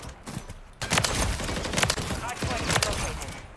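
Rapid sniper gunfire in the video game Modern Warfare 3, several sharp loud cracks in quick succession over a busy mix of game noise.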